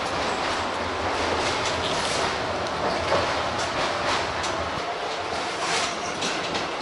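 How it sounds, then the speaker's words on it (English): Loud, steady rumble and clatter from inside a tram riding through a forest in Sofia, Bulgaria, with continuous rail noise, wheel clicks and brief metallic squeals throughout, no voices. "On a tram going through a forest"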